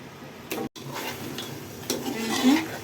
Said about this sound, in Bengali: ভালো করে মাখিয়ে নিচ্ছি লবণ দিচ্ছি মাংসটুকু দিয়ে দিচ্ছি